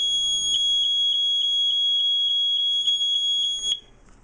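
A Mastercraft 52-0256-A smoke alarm sounds its test tone, a loud high-pitched shrill pulsing in rapid regular beeps for about three seconds before cutting off, heard close with no talking.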